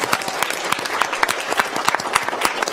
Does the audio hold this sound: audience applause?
yes